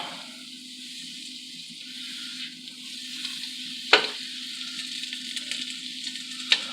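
Unsalted butter melts in a big pot with a soft, steady sizzle and hiss close by, broken by two sharp clinks of a utensil against the pot.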